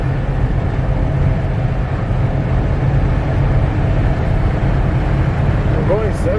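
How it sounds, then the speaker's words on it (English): Wind noise inside a bagged big rig truck cruising at 70 mph: a loud, steady roar of rushing air and road rumble that never lets up. "I'm going 70, and man, you can hear all this wind."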